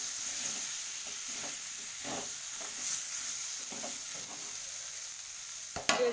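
Pumpkin and mixed vegetables fry in a pan with a steady, fairly quiet hissing sizzle, punctuated by soft stirring scrapes and a sharper knock near the end.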